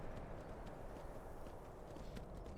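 Horse hooves clip-clop at a steady walking rhythm in Skyrim, a continuous close patter over a dense, noisy background.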